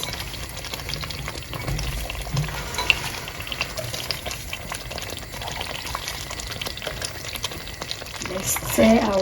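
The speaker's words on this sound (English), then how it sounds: "Let's stir our onions in" Onions fry in a pot with fish stew ingredients, a continuous sizzle with scraping stir sounds and a louder clatter at the end, voice talking faintly over it.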